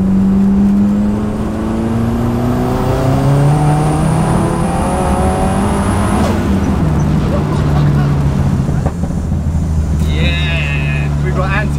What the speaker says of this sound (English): This is 40 miles an hour, fourth gear pull.